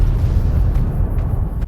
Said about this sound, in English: there's just explosions going off everywhere